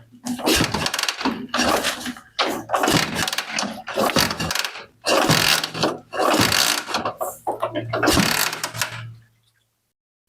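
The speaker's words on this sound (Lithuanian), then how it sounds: "Ir dabar paspardysim variklį ir matysim, kiek duoda mum kompresijos." Engine cranked repeatedly on the starter during a compression test, with several bursts of steady mechanical whirring separated by short pauses, loud and close.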